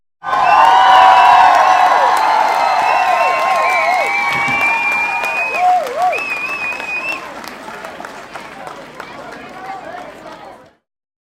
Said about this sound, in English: Thank you for all the applause.